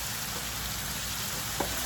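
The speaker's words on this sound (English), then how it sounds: "So I'm gonna just add my sausage." Cut-up sausage sizzles steadily in a hot pot for a Jamaican brown stew goat, making an even frying hiss with one small clink near the end.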